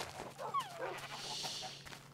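Several dogs in the Minecraft-style game Bingecraft make short panting and whimpering sounds, with a small yip. The sounds are quiet and last only briefly, and there is no talking.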